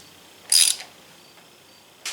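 Ratchet wrench tightening a bolt on a square-body Chevrolet S10 / GMC S15 pickup, working through two short, close, crisp clicking bursts separated by a quiet pause.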